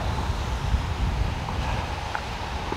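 Strong wind gusts roar and buffet the microphone at a lakeside wilderness campsite on a small peninsula, a continuous low rumble with faint rustling on top.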